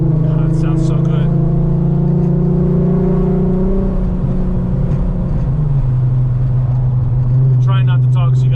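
Loud in-cabin drone of an Audi RS3 running a built R30 VR6, holding a steady pitch before easing down and settling into a lower cruise, with brief faint high sounds at the start and end.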